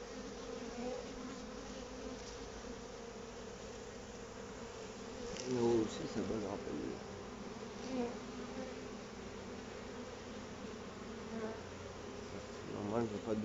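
A bee swarm buzzes steadily in a dense, continuous drone around a freshly opened hive, close and sustained, with a few louder swells as bees fly near.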